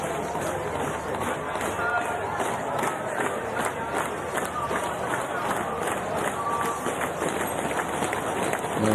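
Roadside spectators at the Paris 2024 Paralympic para triathlon applaud and cheer steadily as Rachel Watts runs along the barriers near the finish. A commentator talks over the dense crowd noise.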